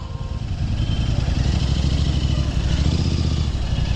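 A Royal Enfield Interceptor 650 motorcycle on a solo road ride, its engine thrumming loud and steady with a deep pulsing exhaust beat and wind rush throughout.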